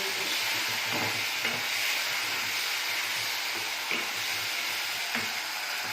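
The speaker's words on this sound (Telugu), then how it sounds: "సో అన్నీ యాడ్ చేసేసాం కాబట్టి మనం మిక్స్ చేసేద్దాం." Vegetables and chicken being stirred and mixed in a hot pan for restaurant-style Chicken 65, a steady sizzling hiss with soft scraping strokes of a spoon recurring every second or so.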